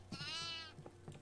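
A goat lets out one loud, close, wavering bleat lasting about half a second, followed by faint rustling.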